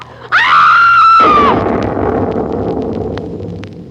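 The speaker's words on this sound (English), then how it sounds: "To whiten my hair a scream of fright." A woman lets out a shrill scream of fright, a single sustained high cry lasting over a second, loud and close, followed by a low rushing rumble that fades.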